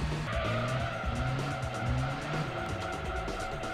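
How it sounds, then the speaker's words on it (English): A car in Gran Turismo 2 braking late into a corner, with loud tyre squeal and skidding over a droning engine that rises and falls in pitch. "Nope, too late on the brakes again"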